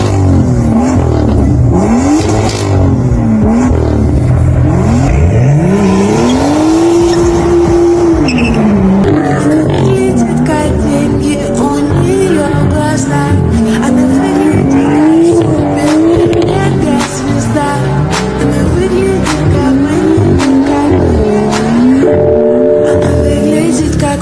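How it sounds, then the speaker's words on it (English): A rear-wheel-drive BMW M2 fitted with an AC Schnitzer exhaust drifts, its loud engine rising and falling in repeated revving swells while tires squeal continuously underneath, close and intense for the whole stretch. "Like every other M2 on this list, it has no problem getting sideways and burning rubber."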